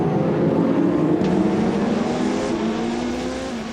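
Race cars on the long main straight at the 6 Hours of Fuji endurance race, engines howling past in a sustained roar with rising and falling pitch, fading slightly toward the end.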